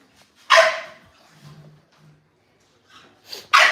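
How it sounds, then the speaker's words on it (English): An American Bully, a pregnant female, lets out a couple of sharp, close barks separated by a quieter pause with faint low sounds between. "Yeah, I see a dog. This girl right here barking."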